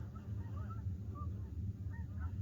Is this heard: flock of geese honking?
yes